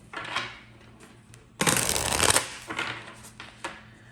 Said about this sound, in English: And the cards have been shuffling so annoyingly today.